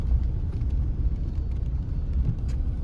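Road traffic on the way to Mabalacat during a typhoon, a continuous low rumble of cars and engines close by, with no voices.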